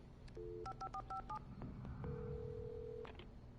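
A telephone is dialed in the Alan Wake video game: a quick series of distinct touch-tone beeps, then a longer steady tone, clear and close over a soft background hum.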